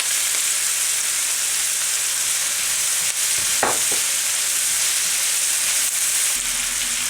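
Peppers frying in a pan while eggplant casserole is cooked, a steady close sizzle that runs throughout with a few soft stirring knocks.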